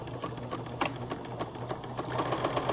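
A sewing machine runs a narrow quarter-inch French seam in fabric, a steady close mechanical whir with rhythmic needle ticks throughout, with no talking.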